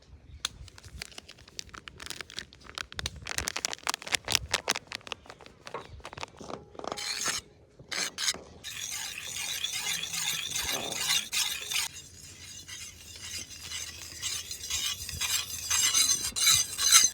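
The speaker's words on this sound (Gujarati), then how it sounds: "હવે આપણે બીજા વાટકામાં 2 થી 3 ચમચી કસ્ટર્ડ પાવડર ઉમેરવાનો છે અને એને આની ઘોડે મિક્સ કરવાનો છે" A spoon stirs custard powder in a bowl, giving quick irregular scraping and clinking taps that give way to a softer crinkly, rustling texture, close and fairly quiet, with no talking.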